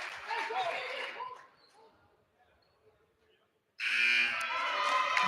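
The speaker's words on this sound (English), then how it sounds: "Buzzer sounds." A loud buzzer sounds at the end of a high school girls' basketball game between Conneaut and Franklin, cutting in sharply after a quiet gap and holding steady over crowd noise; gym noise and voices precede it.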